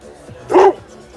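A single short dog bark rings out close by in the middle of a car meet, with quiet background noise before and after.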